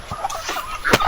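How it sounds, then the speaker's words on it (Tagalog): A neighbour's hen strays into a farmhouse and gives a few short, scattered clucks at close range, with no talking. "Manok ito ng kapitbahay doon sa ating dinadaanan kay Pajunilo siguro to."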